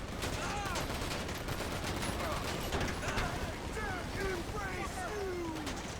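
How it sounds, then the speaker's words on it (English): Rapid gunfire from the video game GTA 5 crackles in dense bursts over a steady wash of in-game noise and engine hum, with faint voices underneath. "And you see there, I try to shoot at him"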